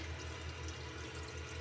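Water running steadily from a bathroom sink tap while a face is rinsed during a nighttime skincare routine, a continuous close hiss and splash with no talking.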